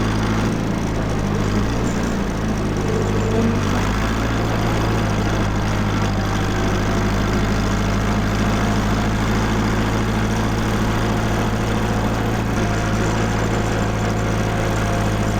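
A 1949 Farmall Cub tractor engine drones steadily and loudly throughout while the tractor drives across town towing a log arch, with a constant low rumble and no speech.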